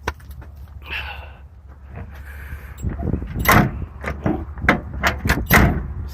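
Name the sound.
door of 1971 Pontiac Lemans opening and closing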